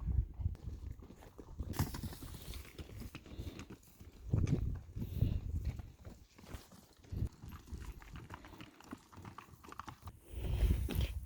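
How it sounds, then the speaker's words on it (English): Several horses walking past on a path outdoors, hooves clip-clopping in an uneven, overlapping rhythm at moderate distance, with louder bursts as they come closer. "here's some horses coming down the way"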